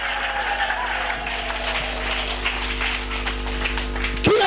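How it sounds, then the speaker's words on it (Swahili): A church congregation claps loudly and continuously, a dense burst of applause with crowd noise over a low sustained hum, ending in a louder surge. "Piga makofi ya kishindo kwa Yesu Kristo."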